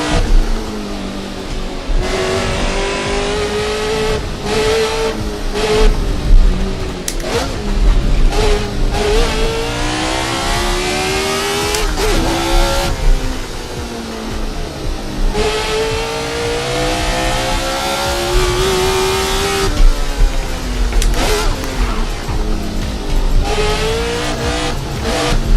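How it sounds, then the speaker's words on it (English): Classic vintage GT sports car on a street circuit near Napoli, its engine revving hard and climbing through gears in repeated loud pulls, the roar echoing off surrounding walls with brief tire squeals between accelerations. "Hear the car echoing off of the walls around it."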